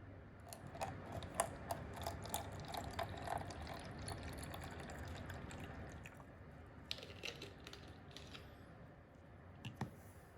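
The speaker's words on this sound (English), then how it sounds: "First, we'll pour in our vinegar, maybe halfway up." Vinegar poured into a container for a bubbly science experiment, a faint trickling liquid sound with small clicks and taps, quiet and close.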